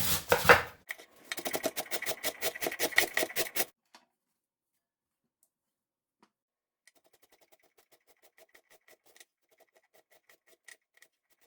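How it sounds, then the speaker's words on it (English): A knife chops vegetables for sauerkraut on a board in a rapid, close run of sharp taps, then stops; after a silence, faint scattered ticks and light clicks follow. "this is again just a pretty fine but like rough chop"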